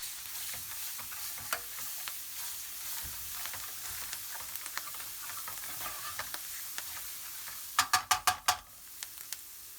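Tomato paste and base gravy for a British Indian restaurant style Rogan Josh sizzle steadily in a hot pan. Near the end, a spoon scrapes and stirs in a quick run of loud strokes, with no talk.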